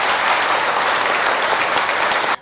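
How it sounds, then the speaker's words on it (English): Loud, sustained applause from an awards event audience for panelists, lasting a couple of seconds and cutting off abruptly at the end. "Can we have a big round of applause for our panelists?"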